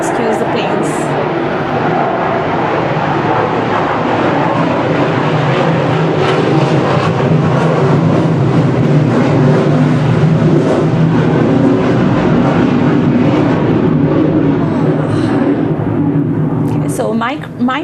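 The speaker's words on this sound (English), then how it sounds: "You have to excuse the planes." Jet airplanes roar overhead in a long, steady wash of engine noise that swells slightly midway and fades near the end, with a person talking throughout over the drone.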